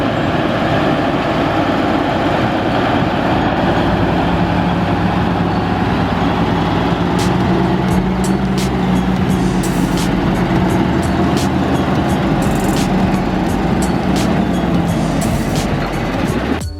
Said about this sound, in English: Now watch this old red log truck making its way back home.